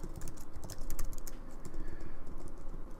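Quick, uneven clicking of a computer keyboard while typing Rails commands, close and clear with brief pauses between bursts of keystrokes.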